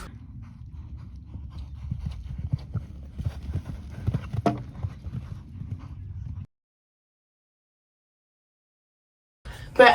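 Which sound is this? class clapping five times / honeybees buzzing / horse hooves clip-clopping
horse hooves clip-clopping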